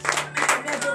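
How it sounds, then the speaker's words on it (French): A congregation at a Saturday morning prayer service in Benin claps and acclaims the Lord, a brief burst of rhythmic, pulsing hand claps blending with raised voices. "Donnez de vive acclamation au Seigneur."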